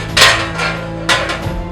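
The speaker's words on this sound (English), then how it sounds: "After that, I hammered the rivets in with" A standard hammer strikes rivets into metal bucket armor, about four loud, ringing metallic blows spaced unevenly, close by and with no talk.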